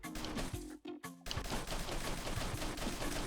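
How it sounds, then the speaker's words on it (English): A semi-automatic shotgun firing in the side-scrolling game Mercenary Kings: rapid, punchy shots in quick succession over game music, with one short pause. "It's like a semi-automatic shotty."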